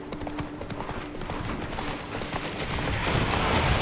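Horse hooves clopping in The Witcher 3: Blood and Wine, a steady run of hoofbeats in a game soundscape that grows louder toward the end, with no talking.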